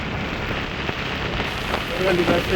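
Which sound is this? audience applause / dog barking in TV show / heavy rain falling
heavy rain falling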